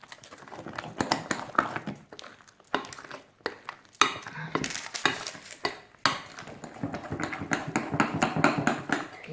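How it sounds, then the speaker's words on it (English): Spoon stirring banana bread batter in a bowl, with a busy run of soft scraping, clinking and tapping strokes that continue steadily and fairly close, no talking. "it's better to mix them with a spoon because it's better with a spoon"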